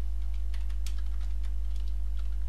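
Typing on a computer keyboard while writing C# code: a run of light, close clicks over a steady low electrical hum.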